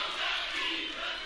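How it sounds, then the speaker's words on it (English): A large arena crowd at a WWE NXT women's title match chants in a loud, dense, continuous roar, filling the whole moment without any other sound. "When the last time you heard a crowd chant like this for a women's title match?"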